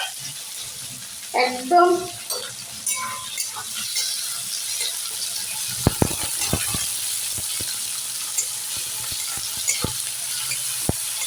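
Onions frying in hot oil for masala Maggi: a steady sizzle with scattered stirring clicks and scrapes, and a voice speaking briefly near the start.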